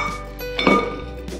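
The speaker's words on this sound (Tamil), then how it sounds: "எடுத்து வச்சிருக்கிற வெல்லத்தை இந்த பாத்திரத்துல போட்டுடலாம்." Jaggery drops into a cooking pot with one soft, dull clunk in the middle of the moment, heard over quiet background music.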